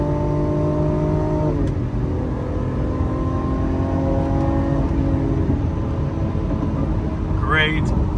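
A V12 supercar engine revs and holds steady, its harmonic tones sliding up and down as the revs shift, loud and close throughout, with a single-clutch gearbox and a voice talking over it.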